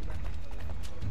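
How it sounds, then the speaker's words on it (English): Horse hooves clip-clopping in Assassin's Creed III, a brisk run of close hoofbeats over a low rumble, lasting about a second. "You are a very chill horse."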